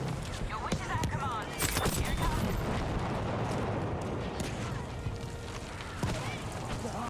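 A JB2 rocket strike in the Battlefield V video game, with dense rumbling blasts and crackling impacts that keep a continuous roar of battle going, sharper bursts punching through near the middle and end.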